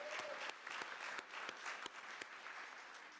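A law school graduation audience in a Sheraton hall applauds the graduates' families, sustained crowd clapping with sharper individual claps standing out, heard at a distance and fairly faint.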